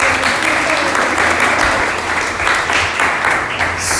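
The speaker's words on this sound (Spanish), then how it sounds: "Denle un aplauso al que está a su lado" A church congregation breaks into loud, sustained applause, a dense continuous clatter of many hands clapping close by.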